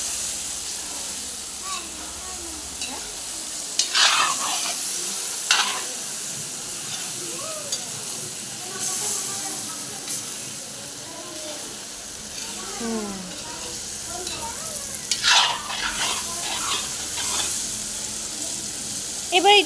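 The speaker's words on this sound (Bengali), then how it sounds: "এখন মটনটা কষানো হচ্ছে" Mutton sizzles while being sautéed in a pot, steady frying hiss with bursts of sputtering and scraping stirs, while people talk intermittently nearby.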